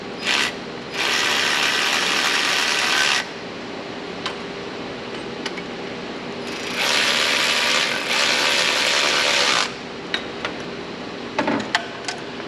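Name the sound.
Harbor Freight 3/8 inch ratchet turning bolts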